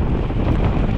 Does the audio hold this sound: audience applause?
no